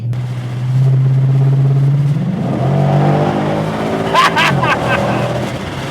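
LS V8-swapped BMW E46 accelerating hard beneath a bridge, a loud, rising engine roar building over several seconds with a sharp burst near the end, echoing close by.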